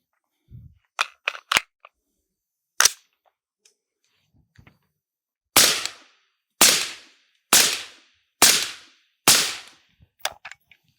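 A 5.56 rifle with a suppressor fires SS109 rounds outdoors: a handful of sharp mechanical clicks and clacks, then five loud, evenly spaced suppressed shots about a second apart, each with a short decaying tail.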